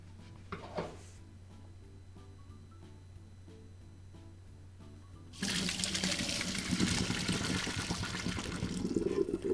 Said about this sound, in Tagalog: Ang gagawin ko ay itatapon ko lang yung tubig.